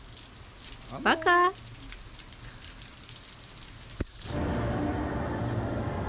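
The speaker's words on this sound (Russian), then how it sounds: "На улице льет дождь." Rain pours outside in Arima Onsen, Japan, a steady close hiss that starts suddenly after a sharp click, following a quiet stretch with a brief spoken word.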